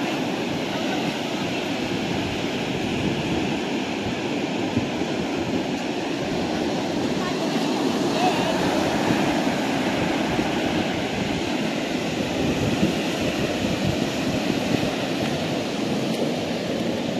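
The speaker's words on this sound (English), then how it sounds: "Oh, that tide is coming in for real." Ocean waves roll in with the rising tide on a Daytona beach, a continuous broad wash of surf at steady moderate loudness with no voices.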